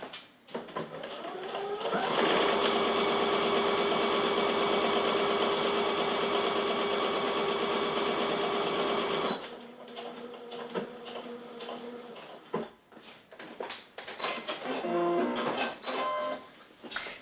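Sewing machine stitching fabric for a reusable dish sponge, running in a steady fast whirring buzz for several seconds, then stopping before handling noises and someone talking quietly.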